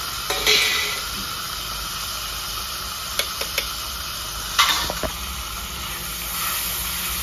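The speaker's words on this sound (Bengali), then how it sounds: "এই তেলে শুকনো লঙ্কা, গোটা জিরে, দালচিনি, ছোট এলাচ, বড় এলাচ, লবঙ্গ, তেজপাতা একসঙ্গে দিয়ে দেবো" Whole spices (dried chilli, cumin, cinnamon, green and black cardamom, cloves and bay leaf) sizzle in hot oil with a steady hiss, broken by a few sharp crackles and stirring clicks.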